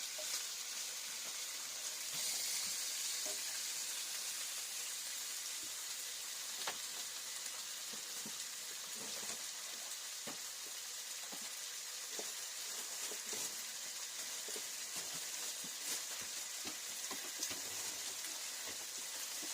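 Cured, salted bacon frying in a pan on a homestead, a continuous close crackling sizzle with scattered sharper pops throughout, and no voices.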